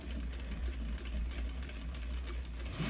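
A sewing machine stitches fabric for a twist headband, a steady close mechanical whir with a fast, even needle rhythm throughout.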